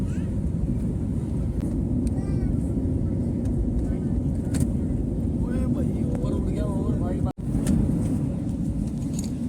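Airplane climbing after takeoff on a flight to Dubai, heard from inside the cabin as a loud, steady low engine roar throughout, with someone talking over it.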